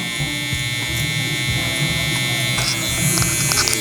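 Electric hair clippers fitted with a half guard buzz continuously at close range while tapering a low taper mullet, a steady high whine with faint shifts as the lever is worked; a voice is faintly present.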